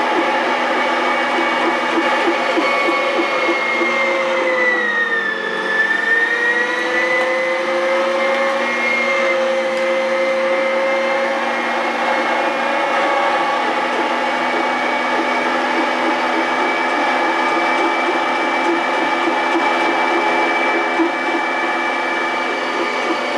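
A meat grinder grinds bulk turkey into ground turkey, a steady loud motor whine holding a constant pitch throughout, briefly dipping and straining as the meat loads it, with no talking.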